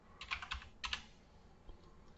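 Keys tapped on a computer keyboard while entering a label's text value in Visual Basic, in a few short quick bursts, quiet and close, with no talking.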